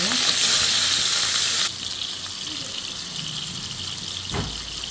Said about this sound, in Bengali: আমি চুলায় মাছ ভাজার জন্য বসাই দিলাম একটা পেন